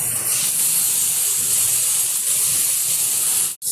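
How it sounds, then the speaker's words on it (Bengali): Bata fish with a little turmeric frying in hot oil in a pan, a loud, bright, steady hiss that holds without pause until a brief sharp drop near the end. "আজকে বাটা মাছ দিয়ে করবো, তার জন্য বাটা মাছটা ভেজে নেব"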